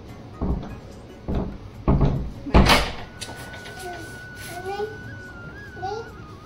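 A door in a home is worked open with a few loud knocking clacks and rattles, followed by quieter background sounds and faint chatter.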